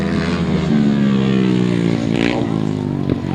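A single-cylinder speedway-engine sidecar outfit racing on a grasstrack gives a loud, steady, buzzing engine drone that rises slightly in pitch, heard close and continuous with no talk over it.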